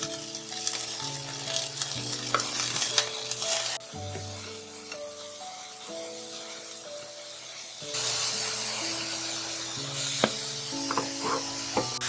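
Food stir-fried over high heat in a Japanese home kitchen hisses and sizzles loudly and continuously, with clanks of a spatula against the pan. The sizzle swells and fades as the food is tossed.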